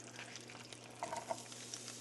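Cabbage sautéing in a pan gives a soft, steady sizzle with faint stirring scrapes, quiet and close, with a low steady hum beneath.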